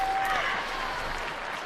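Crowd applauding seniors leaving the field at a high school football state championship game, a brief burst of distant clapping from the stands that fades slightly over under two seconds.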